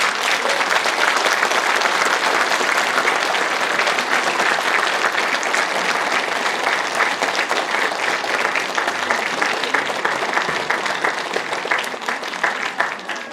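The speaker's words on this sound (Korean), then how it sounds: "박수 부탁드립니다." Sustained, dense applause from an audience at a donation ceremony for Sejong City sports, many hands clapping steadily and loudly for over ten seconds, easing slightly at the end.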